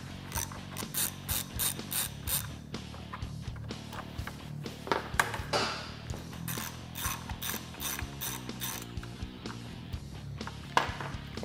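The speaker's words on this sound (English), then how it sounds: "You just remove the 2 screws on both sides." Ratchet clicking steadily up close while screws come out of a Polaris RZR air dam, rapid pawl ticks in runs with brief pauses and a few metallic clunks.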